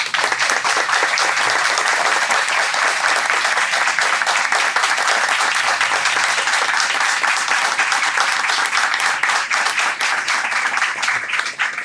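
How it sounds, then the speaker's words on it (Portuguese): Steady, dense audience applause fills the room at a book launch and discussion evening, sustained at an even, loud level for about twelve seconds with no break. "E eu peço uma salva de palmas"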